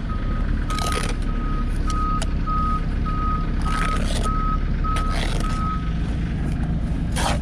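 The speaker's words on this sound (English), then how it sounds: "I just realised George is in the forklift" Forklift reversing beeps on a bricklaying site, a steady run of evenly spaced electronic tones over loud diesel engine rumble and outdoor noise, with occasional clanks.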